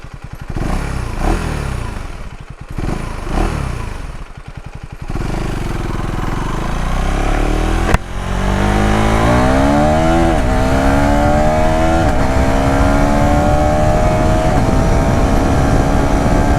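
A 2026 KTM Duke 350 Gen 3 motorcycle with its quickshifter on is ridden hard, the engine note rising in repeated loud revving sweeps through the gears, close and continuous.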